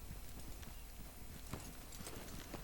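Horse hooves clip-clop in a steady walking rhythm in Red Dead Redemption 2, close and continuous over low game ambience, with no talk.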